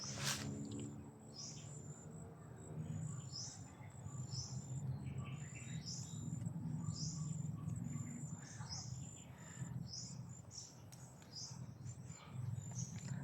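Birds chirp in quick repeated high calls over a low ambient rumble, faint and distant-sounding.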